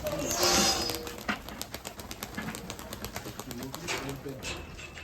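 Crested shaggy pigeons coo in a loft in a village setting, soft repeated calls with some wing flutter and chirps, while people talk nearby.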